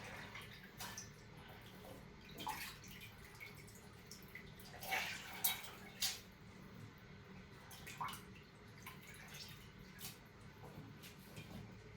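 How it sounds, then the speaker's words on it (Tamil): Mutton intestines are washed by hand in water at a kitchen, with soft sloshing, drips and splashes coming in irregular bursts, quiet and close. "இதை நல்லா கழுவிட்டு இந்த சட்டிக்குள்ளே நான் போட போகிறேன்."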